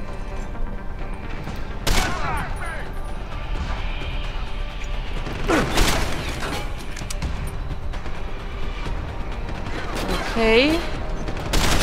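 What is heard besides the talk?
gunfire while shooting from cover in Deus Ex: Human Revolution video game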